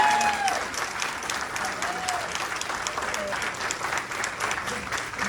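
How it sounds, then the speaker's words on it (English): Audience applause for visiting authors at a book event, a steady dense wash of clapping throughout, with a few faint voices beneath. "let's give them a big applause"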